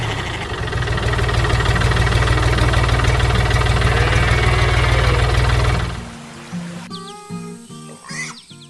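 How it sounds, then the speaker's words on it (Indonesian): A loud, steady tractor engine roars continuously for about six seconds, then drops away, leaving quieter mechanical clatter and faint tones. "traktor merah di tengah ladang padi kuning yang mengilap. Suara mesinnya menggelegar"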